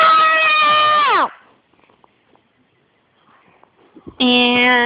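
A child imitates a cat, giving two long drawn-out meows with a falling pitch, loud and close, separated by a quiet pause with faint background noises.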